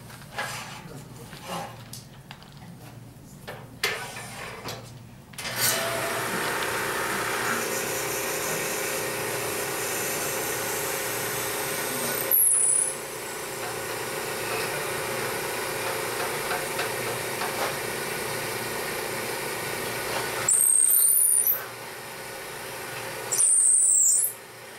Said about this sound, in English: Now I'm just going to drill it.